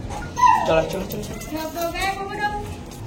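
A large 1.5-year-old Rottweiler whimpers indoors, a rising then falling whine followed by softer yips and whines. A person talks over it.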